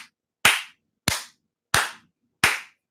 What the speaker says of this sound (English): 2 snaps and a round of applause